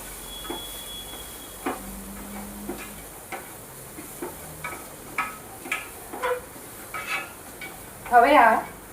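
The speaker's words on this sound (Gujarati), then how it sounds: "હવે આ દરેક વસ્તુને આપણે બરાબર સાંતળી દઈશું." Grated ginger and green chillies being stirred in a pan, a utensil scraping and clinking against the metal in repeated soft strokes with faint sizzling, building to a louder clatter near the end.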